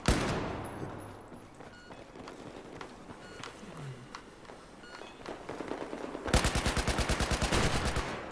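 Gunfire in Battlefield 4 on Xbox One, with scattered shots over a dense, busy battle din, then a loud rapid automatic burst near the end.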